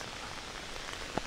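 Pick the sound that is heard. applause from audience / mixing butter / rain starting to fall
rain starting to fall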